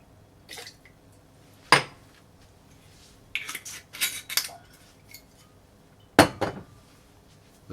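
Ice and Dewar's scotch clink against a cocktail shaker in sharp, separate glassy knocks, a few bright clinks scattered with short pauses between, near and clear.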